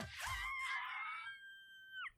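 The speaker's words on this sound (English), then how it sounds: "Oh, the shriek." A cartoon shriek from an episode of The Owl House, a single high, wavering scream lasting about two seconds that slides upward at the end before cutting off, heard alone.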